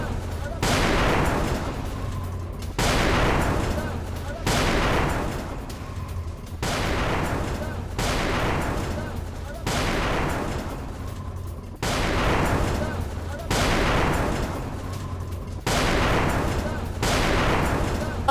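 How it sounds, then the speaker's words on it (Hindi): Cluster bomb explosions in central Israel come as a series of about eight heavy booms, roughly every two seconds, each a sharp burst trailing into rumble. The sound has the harsh, loud quality of news footage. "ईरानी क्लस्टर बम गिरने के बाद धमाका"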